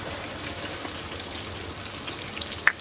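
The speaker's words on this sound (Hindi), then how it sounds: "अच्छे तरीके से सौटे कर लेंगे 2 से 3 मिनट" Ginger garlic paste sizzles steadily in a hot pan over high flame while cooking chicken gravy, a constant close frying hiss with one brief sharp pop near the end, no talk.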